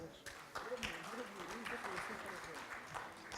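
Audience applause at a FinTech talk during the Tunisia Digital Summit, welcoming speaker Ikbel Snoussi; a sustained wash of clapping from a crowd in a conference hall, mixed with some voices.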